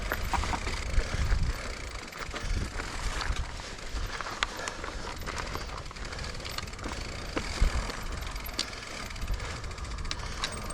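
A mountain bike rolling down the Rockstacker rock descent near Moab, Utah, with continuous tire rumble and gravel crunch, scattered rattles and clanks of the frame over rock, and faint wind noise.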